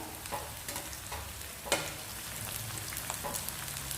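Drumstick leaf and ragi flour pakoda fry in hot oil, a close dense sizzle with soft stirring scrapes and one sharp clatter, no voices.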